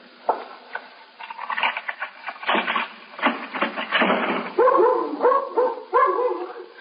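A dog barks and yips repeatedly at close range in a 1953 police radio drama, a run of sharp barks followed by higher whimpering yelps, with no voices over it.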